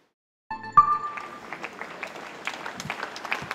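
Hundreds of people at a socially distanced outdoor farewell for a theatre director clap together, a steady moderate applause with scattered individual claps that begins abruptly and continues throughout.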